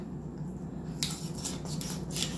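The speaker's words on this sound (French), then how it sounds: "Ou tu peux prendre des ciseaux aussi." Scissors snip through raw chicken along the back, a series of crisp, close cutting crunches and rasps over a quiet kitchen background.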